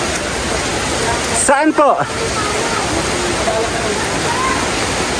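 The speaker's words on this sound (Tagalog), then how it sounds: "naulan" Steady rain falls outdoors as a dense, constant hiss filling the whole clip, with a brief voice speaking over it partway through.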